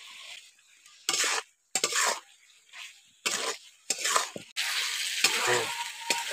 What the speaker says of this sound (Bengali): আরও কিছুক্ষণ একটু কষে নেব।